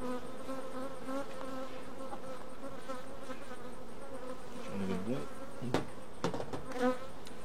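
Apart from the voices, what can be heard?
honeybees buzzing in a hive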